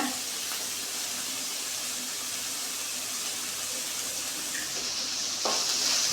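Ginger garlic paste fries in a pan for a curry with a steady, dense sizzle that continues evenly throughout, close and moderately loud, with a brief brighter hiss near the end.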